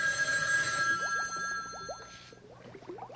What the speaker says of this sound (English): Would you please excuse me while I answer the phone?